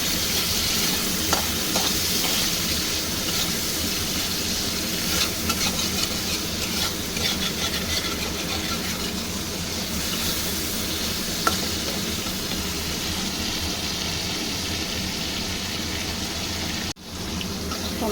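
Tomatoes with spices and salt fry in a pan for a spicy boal fish curry, a loud, continuous sizzle with stirring scrapes running throughout.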